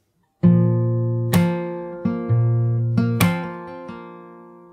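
Fingerstyle acoustic guitar picks the last chord of the verse of a song, with a small hammer-on added: several ringing plucked chords and note attacks with clear sustain, played close and alone.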